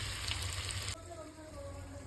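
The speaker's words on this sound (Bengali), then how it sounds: "জিরে গুঁড়ো, অল্প লঙ্কা গুঁড়ো দিয়ে এখন ভালো করে কষিয়ে নেব" Turmeric, cumin and chili powder sautéing in a pan, a bright sizzle that drops abruptly to a quieter simmer partway through.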